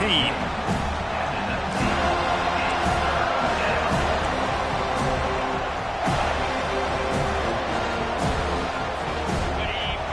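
A big football stadium crowd at an Auburn versus FSU game roars in a sustained, loud swell with sharp claps and thumps at intervals, and a commentator's voice rides under the noise.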